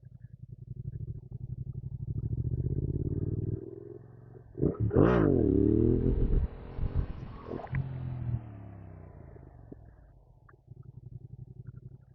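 A 700 R7 motorcycle pulling a wheelie in second gear, the engine revving up hard and peaking in a loud rising roar midway, then settling back to a lower rumble, heard alone without talk.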